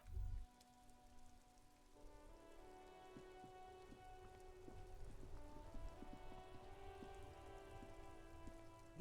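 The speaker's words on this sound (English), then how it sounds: "This rain will not let up anytime soon." Steady rain falls in the video game Disco Elysium, an even patter of drops with a faint tonal drone beneath, quiet and continuous after a brief low thump at the start.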